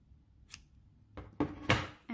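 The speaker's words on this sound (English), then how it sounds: "cut off the yarn" Scissors snip through yarn after crocheting, a few short, quiet cuts in close succession.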